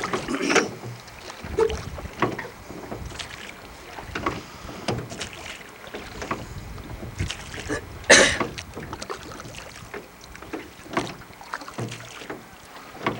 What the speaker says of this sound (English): I'm going to teach Mason how to row